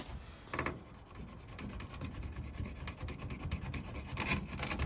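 A dull knife saws at a frozen ratchet strap with a string of short, dry rasping strokes, fairly faint and close, with no talking.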